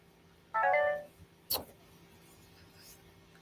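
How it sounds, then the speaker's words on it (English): A phone chimes once during a morning radio show, giving a short, bright tone that rings for about half a second, then a sharp click. It is clear over a quiet background. "I told y'all my phone was about to start dinging and ringing."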